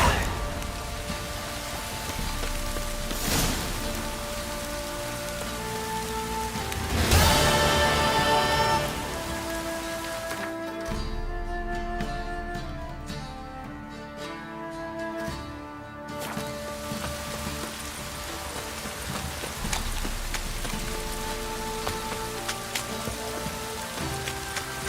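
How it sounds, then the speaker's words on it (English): Rain in The Witcher 3: Wild Hunt in Velen, a continuous hiss of downpour on surfaces with scattered drops, swelling briefly at times, under a faint musical drone, with no voices. "Don't stop raining, my arse will rot off."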